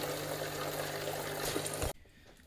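A De'Longhi Perfecta coffee machine pours out water during descaling: a steady, rushing flow runs for about two seconds and then stops abruptly, leaving a quiet tail.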